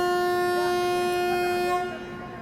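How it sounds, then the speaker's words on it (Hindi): ShivGanga Express train departing a station on the Varanasi-Delhi route, a sustained loud tonal horn blast over rumbling background that fades near the end. "यहाँ से फाइनली डिपार्चर हो चुका है"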